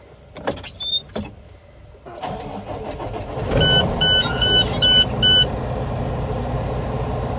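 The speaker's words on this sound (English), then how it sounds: "I'm going to turn on my vehicle" A truck being started before an air brake inspection: a few chimes and beeps, then the engine cranks and catches into a steady idle, with warning tones pulsing over the running motor nearby.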